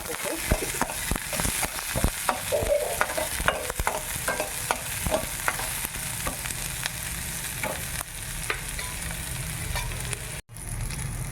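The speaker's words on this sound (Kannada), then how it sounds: "ಇವಾಗ ನೋಡಿ, ಈರುಳ್ಳಿನೂ ಚೆನ್ನಾಗಿ ಫ್ರೈ ಆಗಿದೆ." Chopped onions roast in hot oil in a pan for tomato chutney, a steady close sizzle broken by repeated scraping strokes of a stirring spoon, with no one talking.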